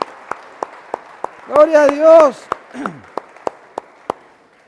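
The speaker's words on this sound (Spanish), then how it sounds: "Démosle un buen aplauso al Señor" Steady, rhythmic hand clapping at a church service, sharp and close, keeping an even beat throughout while a voice briefly speaks over it.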